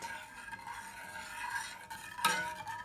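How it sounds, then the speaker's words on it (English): Spoon stirring a nut and fruit granola mixture in a pot over high heat, a steady soft scraping with a louder clink near the end, close and alone. "And I'm going to stir it up."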